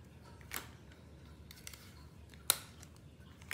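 A few sharp scissor snips cut squares of tape, quiet and spaced out, with faint background hiss between the cuts.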